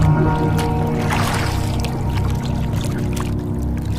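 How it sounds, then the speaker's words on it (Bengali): Cartoon sound effect of a boat floating on water: a continuous loud wash of lapping, trickling water with low rumble throughout. "দূর থেকে একটা নৌকা আমার দিকে ভেসে আসছে"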